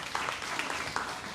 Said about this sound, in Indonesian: kasih tepuk tangan buat teman-teman tim Praise and Worship